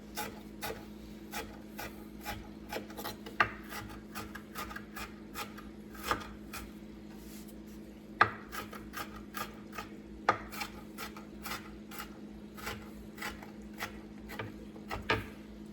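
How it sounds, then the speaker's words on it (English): A knife slicing an onion on a cutting board, a long series of crisp, fairly quiet chopping taps with irregular spacing, a few hitting harder, over a low steady kitchen hum. "But for tonight, I'm going to cut it smaller."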